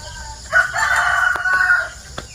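A rooster crows once, loud and close, a drawn-out cock-a-doodle-doo lasting over a second against a quiet farmyard background.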